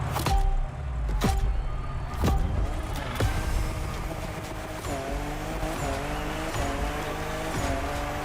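A 2021 Toyota Super Drift Edition in The Crew Motorfest revs hard and drifts on a mountain touge road, its engine roaring alongside long, sustained tire squeals and shifting pitch, loud and close throughout without any voices.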